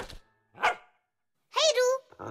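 A cartoon dog barks in short, sharp bursts with pauses between, close and fairly loud, ending in a longer yelping bark, from the animated children's series The Fixies.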